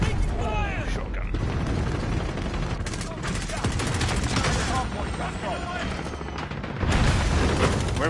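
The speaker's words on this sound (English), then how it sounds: "Shotgun." Rapid bursts of shotgun and other gunfire in a Call of Duty: Modern Warfare match, loud and close, with repeated blasts and booming impacts filling the scene.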